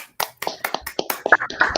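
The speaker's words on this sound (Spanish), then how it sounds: "un pequeño aplauso para Javier" A small group gives a short, sparse round of applause for a seminar speaker, roughly a dozen close, uneven claps in quick succession with no talking.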